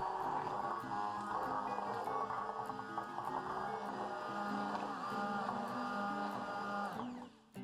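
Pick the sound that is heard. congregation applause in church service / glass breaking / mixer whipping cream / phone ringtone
mixer whipping cream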